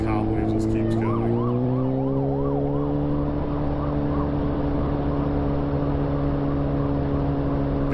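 Police car siren wailing on a road, a loud rising and falling tone that starts close and continues steadily over engine noise, with some talk in the background.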